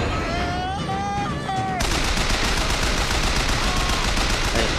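Gunfire in the video game Bioshock Infinite, a loud burst of rapid shots after a short stretch of game sound effects, dense and continuous to the end.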